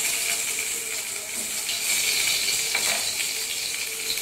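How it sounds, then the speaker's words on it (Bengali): Chopped garlic sizzles in hot oil in a wok, a loud continuous crackling fry with occasional stirring scrapes and no voices. "তো তেলের মধ্যে দিয়ে দিচ্ছি ফার্স্টে রসুন কুচিটা"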